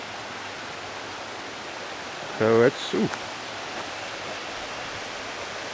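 A creek flows steadily near High Shoals Falls in a forest, a constant broad wash of running water, with a brief spoken phrase over it midway.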